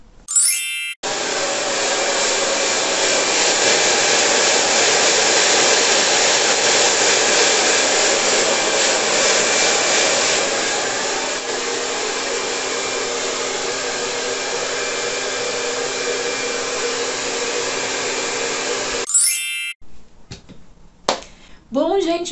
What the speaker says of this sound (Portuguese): Vocês viram que eu sequei um pouquinho com o secador.